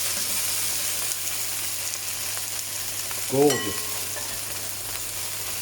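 Venison pieces sear in a hot pan, giving a steady, close hiss and crackle of fat throughout, with one brief spoken word over the sizzle.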